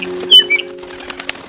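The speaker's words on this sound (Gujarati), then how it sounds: "એકવાર એ ચકલી ખોરાકની શોધમાં આમ તેમ ઉડતી હતી." A sparrow's wings flutter in quick bursts of flapping, close and clear, with a brief chirp or two and soft taps trailing off into quiet.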